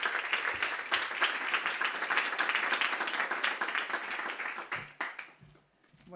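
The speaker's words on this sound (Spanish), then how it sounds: "Un fuerte aplauso para Eva María Martín" Listeners at a book presentation in Madrid give the speaker a strong round of applause, dense and steady, then thinning to scattered claps as it dies away.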